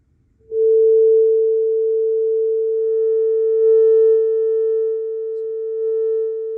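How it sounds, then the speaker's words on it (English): A 400 Hz sine test tone fed into a Tremolux clone amplifier starts abruptly after a brief moment of quiet, then holds as a loud, steady pure hum whose level dips and swells slightly. "We're going to go 400 hertz."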